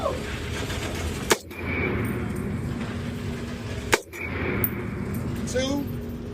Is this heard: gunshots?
yes